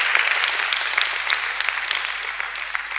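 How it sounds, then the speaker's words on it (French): An audience at a sermon claps steadily, a dense patter of many hands at moderate volume, continuing without pause. "On peut l'applaudir quand même."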